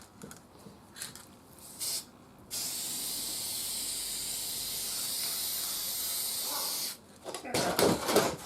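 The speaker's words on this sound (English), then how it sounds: "now I'm going to use this walnut brown spray to make this match a" Walnut brown spray paint hisses onto a Philco console radio in one long continuous burst of about four seconds, framed by shorter spurts and clicks before and after.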